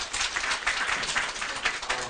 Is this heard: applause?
yes